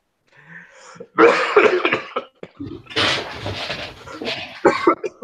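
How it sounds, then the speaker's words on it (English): A person coughs and clears their throat several times, close and fairly loud, in rough bursts with short pauses between them. "I'm gonna get something to like ease my cough."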